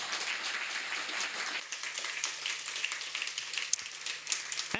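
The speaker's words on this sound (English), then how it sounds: "A round of applause." An audience at a science-outreach talk about space applauds a keynote speaker, loud dense clapping that thins into scattered claps while a low hum runs beneath.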